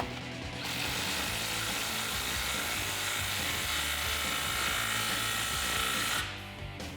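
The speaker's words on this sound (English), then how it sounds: "Now I'm going to take my 15mm socket on my impact gun and snug up my clamps." An impact gun with a 15mm socket snugs up the exhaust clamps of a Flowmaster American Thunder axle-back exhaust on a 2019-2022 RAM 1500 5.7L. It makes one loud, continuous mechanical whirring run lasting several seconds, then stops abruptly.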